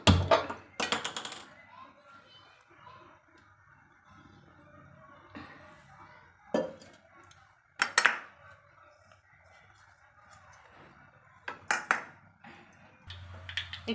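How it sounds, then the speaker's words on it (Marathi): Mustard seeds hit hot oil in a pan, tempering with garlic and curry leaves for a pumpkin dish: sharp, scattered crackles and pops in short bursts, with quieter stretches between. "फोडणीसाठी मी पहिला मोहरी टाकत आहे।"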